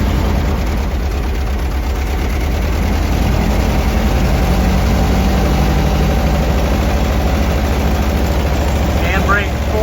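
A 1925 Model TT fire engine's old four-cylinder motor chugs steadily at a low, heavy throb as the truck begins to move off. Someone talks faintly over the continuous engine sound.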